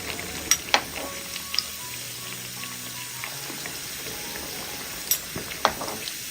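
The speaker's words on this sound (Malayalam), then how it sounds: "തിരിച്ചും മറിച്ചും ഇട്ട് ഇതൊന്ന് ഫ്രൈ ചെയ്തെടുക്കാം" Banana pieces fry in oil in a pan, a soft continuous sizzle with scattered sharp pops and a few light utensil clinks, no voices.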